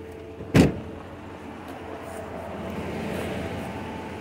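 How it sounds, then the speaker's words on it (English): The door of an old, abandoned, dusty truck is opened once, giving a sharp metallic clunk near the start. Quiet outdoor ambience follows. "Let's open the door"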